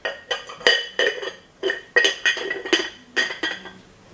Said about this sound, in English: This is a bowl.